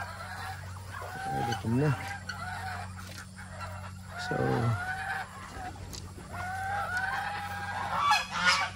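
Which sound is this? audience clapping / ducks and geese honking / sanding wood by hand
ducks and geese honking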